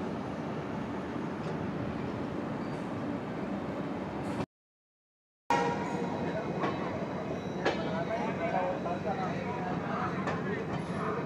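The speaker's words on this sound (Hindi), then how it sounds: "फिलहाल हमारी ट्रेन धीरे धीरे धीरे रेंगते हुए चल रही है" The Brahmaputra Mail passenger train rolls slowly with a steady rumble and rattle heard from inside the carriage, broken by a brief cut to silence, while someone talks over it.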